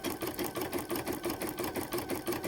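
Brother 770 embroidery machine stitching a design into a blanket, a fast, steady rhythmic needle hammering that carries on continuously and close up without a pause.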